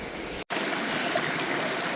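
Water flowing steadily through a Super Mini sluice box while gold prospecting in Fairplay, Colorado, a continuous even rushing wash close by, with a brief cut near the start.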